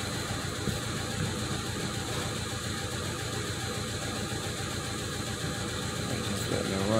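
A 2000 Pontiac Sunfire, newly fitted with a replacement starter and cleaned valves, idles steadily with a low, even engine hum that runs continuously throughout, moderately close.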